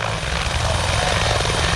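A Griffin military helicopter, deployed with Canadian Forces troops, roars close and loud with a steady, dense rotor and turbine wash throughout.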